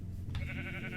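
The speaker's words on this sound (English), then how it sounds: "Brown sheep," A Minecraft sheep bleats in a survival world, a single wavering game bleat that starts about a third of the way in and carries on, loud and close over steady background.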